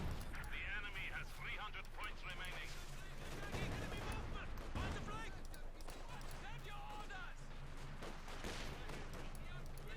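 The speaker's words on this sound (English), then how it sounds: "Bit of shooting there." Scattered rifle and machine-gun bursts from a Company of Heroes 2 battle, OKW against Soviet forces, crackling steadily through dense game effects for the whole stretch while a commentator talks over it.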